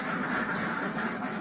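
Ducks in a farm pen quack in a dense, continuous chorus that fills the whole moment, loud and close with no pauses.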